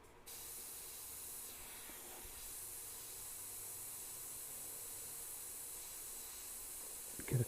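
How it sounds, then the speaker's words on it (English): A steady, continuous hiss of spray paint on a Harley motorcycle part runs for several seconds without pause, close and even, with a brief clatter at the very end. "I'll just spray it real light"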